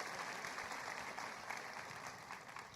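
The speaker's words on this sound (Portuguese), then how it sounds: "você pode dar um aplauso?" A church congregation gives sustained, even applause, a soft and distant clapping wash with no pauses.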